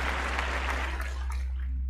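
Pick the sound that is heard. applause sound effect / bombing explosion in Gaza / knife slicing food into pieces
applause sound effect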